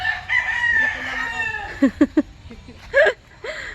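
Chickens cluck and a rooster crows nearby, with short sharp clucks and a drawn-out crow over a quiet farmyard background.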